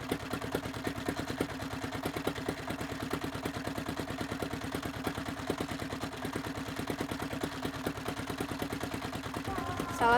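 A fishing boat engine on Bungin Island runs on fuel made from plastic by pyrolysis, chugging in a steady, even rhythm at moderate volume from nearby. It keeps the same pace throughout, with a brief louder burst at the end.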